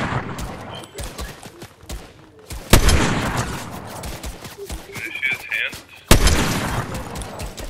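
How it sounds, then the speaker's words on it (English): Sniper rifle shots in the video game Fortnite, two loud sharp booms several seconds apart standing out over a busy mix of smaller gunfire pops and game effects. "and my sniper sounds really loud."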